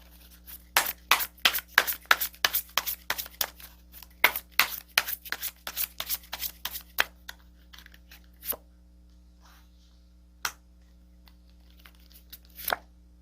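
Tarot cards shuffled and flicked by hand in a quiet room, a rapid run of crisp riffling snaps for about seven seconds, then a few isolated card taps spaced out afterward, with a steady low hum beneath.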